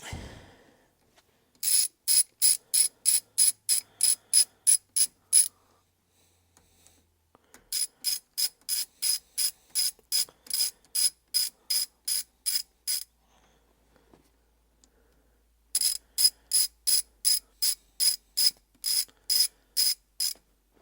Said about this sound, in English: So what we're going to do is cinch these bolts down.